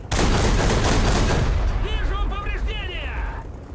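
A Russian premium self-propelled anti-aircraft vehicle's gun in a tank game fires a rapid, loud burst of rounds, followed by mechanical reload clanks and someone speaking.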